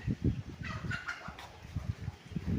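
Chickens clucking close by at a rural house in Nagcarlan, Laguna, Philippines, short repeated low clucks with a few higher squawks mixed in, continuous over a few seconds.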